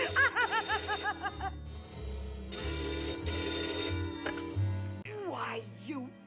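A devil-styled telephone in an animated film rings with repeated warbling bursts, accompanied by music, a laughing voice and a cartoon character speaking loudly over it.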